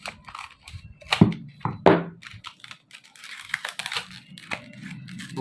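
Plastic packaging around a Kingston DataTraveler USB drive is cut open, giving close crinkling, tearing and snipping noises in irregular bursts, with a few sharper crunches near the start and a busier rustle toward the end.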